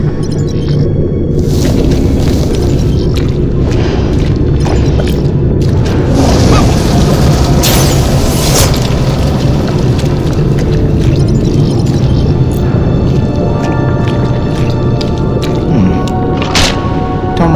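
A thorium fuel explosion in the Guardians of the Galaxy Telltale game on PS4, a loud sustained booming rumble with crashing debris and mechanical clatter, dense and continuous throughout.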